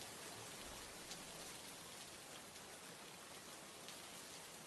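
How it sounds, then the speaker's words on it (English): Rain falls in a steady, soft, even patter with no pauses, a faint hiss that fills the whole stretch with nothing else heard. "As you can see, it rains a lot here"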